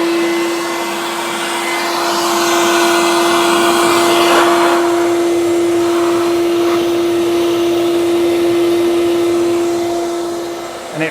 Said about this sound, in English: I'll switch the vacuum on.